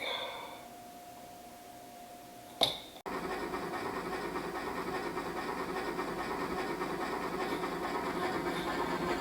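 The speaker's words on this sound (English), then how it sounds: "the Nelson to Robson AM freight is arriving at the south end of the Robson yard" A steam-hauled freight train in the Trainz simulator rolls in toward a 1901 rail yard in Robson, British Columbia, with a sharp burst followed by a steady, fairly quiet engine rumble and hiss that holds throughout.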